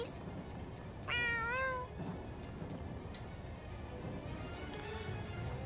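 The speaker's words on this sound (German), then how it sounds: "Die Katze ist gesprächiger als Luhuga." A cat in the video game Tales of Xillia 2 lets out one clear, drawn-out meow close by, over a quiet background hum of game ambience.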